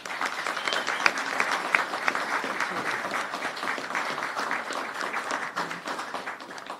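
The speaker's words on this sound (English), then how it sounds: "please give a hand of applause and welcome the governor." An audience at a bill signing and press conference in Lowell applauds to welcome the governor: dense, sustained clapping that stays fairly even from start to finish.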